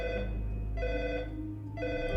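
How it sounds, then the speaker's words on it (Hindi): Old landline telephone bell ringing inside a house in Mumbai in 1985, two loud bright rings with a short pause between, close and alone without voices. "एक घर में फोन की घंटी बज रही थी"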